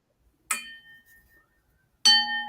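Two sharp metallic bell strikes from a ship's bell mounted on a plastic model, the first followed by a lingering ringing decay, the second arriving about a second and a half later, close and clear with no talk.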